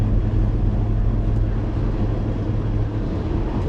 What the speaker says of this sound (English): It's always going to be a loud car